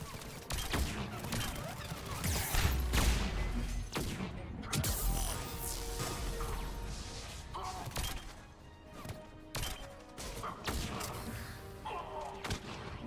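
Rapid bursts of gunfire and impacts from a Mass Effect 3 firefight, with repeated thuds and crashes of combat running steadily throughout at moderate loudness.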